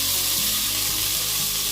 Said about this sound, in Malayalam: ഇനി നമുക്കിതിലേക്ക് ഒരു തക്കാളി അരിഞ്ഞത് ചേർത്ത് കൊടുക്കാം. ഇനി ഇതെല്ലാം കൂടി ഒന്നുകൂടി നമുക്ക് വഴറ്റിയെടുക്കാം.